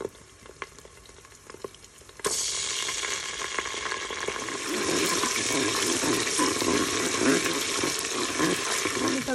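Harissa and tomato paste fry over high heat in a Cookeo multicooker. After a few scattered clicks and taps, a loud, steady sizzle starts suddenly and keeps going, swelling a little partway through.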